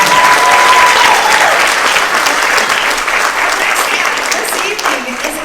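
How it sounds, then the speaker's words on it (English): Audience at a seniors talent show breaks into loud, sustained applause, dense clapping from a full room that slowly eases off over several seconds. "How about another round of applause for Chariot?"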